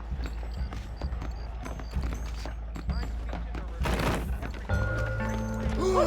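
Horse hooves clip-clop in a steady rhythm in Red Dead Redemption, with game-like thuds and a brief burst of noise partway through.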